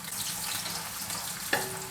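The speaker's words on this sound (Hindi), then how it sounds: "अभी इसके अंदर प्याज ऐड कर दी और इस प्याज को हम 3 मिनट के लिए फ्राई करेंगे" Onions frying in hot oil in a kadai for mutton shorba hiss and crackle steadily up close, with a short clink of a utensil near the end and no voices.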